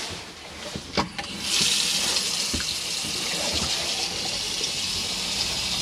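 Water from a tap runs steadily into a hand basin inside an Adria Sonic 700 caravan, a continuous close hiss and splash with a few knocks at the start, and no one talking.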